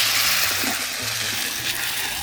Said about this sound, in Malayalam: അത് കഴുകിയിട്ട് കുറച്ച് വെള്ളം കൂടെ ഒഴിച്ചു